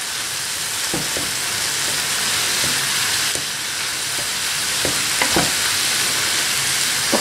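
Vermicelli and black mushroom filling for Chinese fried spring rolls being stirred in a hot pan, a steady loud sizzle with a few sharp spatula scrapes and knocks spaced through it, close up with no talking.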